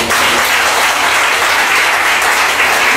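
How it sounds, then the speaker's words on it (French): Ceremony audience in Abidjan applauding a guest, a loud, dense burst of clapping that stays steady and close for the whole three seconds, with no talk over it. "Je vous demande d'applaudir M."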